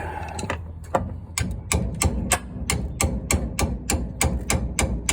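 Sharp metallic hammer strikes on the brake parts of a 1938–1939 Dodge Brothers car ring out in a steady, evenly spaced rhythm, about a dozen blows, close and loud against a low mechanical hum.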